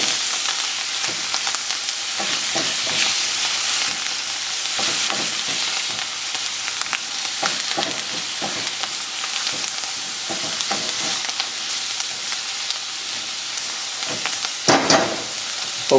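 Zucchini with fresh garden herbs sautés in a pan, a steady close sizzle and hiss running throughout, broken by the scrape and clack of stirring at irregular intervals.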